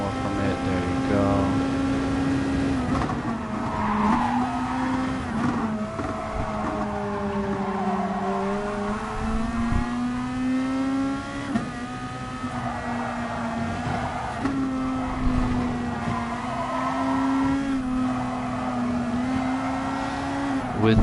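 Race cars in a PS4 racing video game roar steadily with a loud engine drone that rises and falls through gear shifts, along with some tire noise, and no one speaks.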